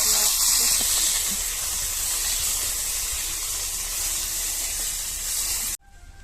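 Ingredients fry in hot oil with a steady, bright hiss that holds for several seconds before cutting off abruptly near the end.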